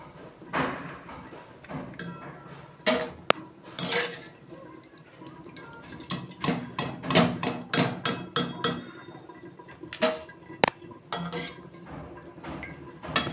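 Clatter of a metal wok (kadai) set down on a home kitchen stove, with a string of sharp knocks and scrapes in irregular bursts, close and fairly loud, no talking.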